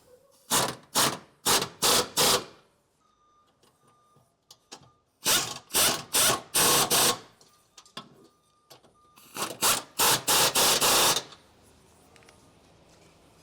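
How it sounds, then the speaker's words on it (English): A ratchet wrench tightens receiver bolts on a Ford F-150 during a Torklift Apex anchor installation, clicking rapidly in three separate bursts with short pauses between them. "We're going to start by tightening down all of the bolts for the main receiver, starting with the vertical bolt first."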